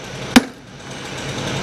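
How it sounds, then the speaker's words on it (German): One sharp, light hammer tap rings out on an old stoneware pipe at a deep excavation site, then a low hum of site noise follows. "Und wenn ich jetzt hier mit dem Hammer mal nur ganz leicht drauf haue"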